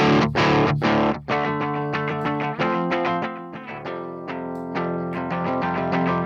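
Heavily distorted electric guitar through a NeuralDSP Mesa Boogie Mark IIC+ amp lead channel plays a lead line of sustained notes and quick picked runs, loud and close with no voices.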